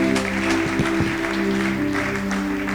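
A church congregation applauds in acclamation during a French-language service, a dense, steady clatter of many hands over sustained musical tones, moderately loud throughout.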